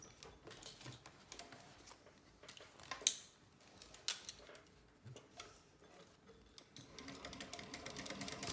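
Domestic sewing machine stitching a quarter- to three-eighths-inch seam along the sides of a pocket in a drop-in lining, its quiet rapid needle chatter running in steady bursts with brief pauses, close and fairly soft, no talking.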